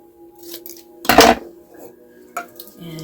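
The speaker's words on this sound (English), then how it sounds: "Scissors" Scissors are picked up and handled during an Earth Day craft session, giving one loud clattering knock followed by a few lighter clicks and taps close by in a quiet room.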